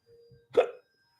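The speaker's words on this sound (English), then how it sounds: "I'm burping up Indian." A single short burp erupts close to the microphone after a faint low murmur, then quiet.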